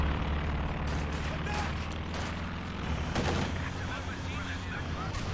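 Rapid bursts of machine gun fire from a mounted anti-aircraft gunner in a 2v2 war strategy game, layered with distant booms and battle noise, continuous and dense throughout.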